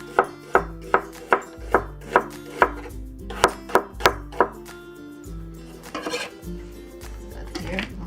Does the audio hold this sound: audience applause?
no